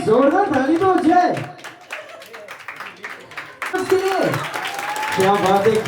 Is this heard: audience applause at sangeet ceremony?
yes